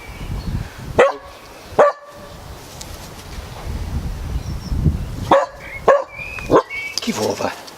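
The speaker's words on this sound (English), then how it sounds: "Dog's barking at a polythene bag, I think." A dog barks at a polythene bag outdoors, several sharp barks spaced across the clip, some in quick succession, over low rumbling background noise with a few brief human vocal sounds.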